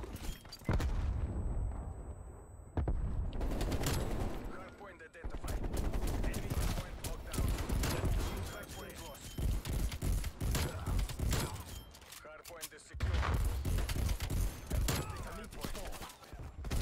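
AK-47 assault rifle fire in Call of Duty: Black Ops Cold War season 2, low-recoil build: repeated loud bursts of automatic fire with brief pauses between volleys, close and punchy, with occasional speech mixed in.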